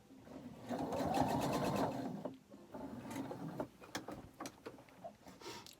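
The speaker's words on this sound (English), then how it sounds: "So I'm going to stitch this other side." Sewing machine stitching the side of a fabric PPE face mask with elastic ear loops: a close, fast mechanical whir for about two seconds, then shorter bursts of stitching and handling clicks.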